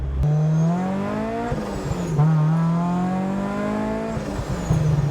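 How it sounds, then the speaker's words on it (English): A 260 whp Rotrex supercharged Mazda Miata drones loudly and close, its engine note rising and falling, with brief crackling exhaust burbles breaking through as the revs drop. "Oh man, I love the burbles."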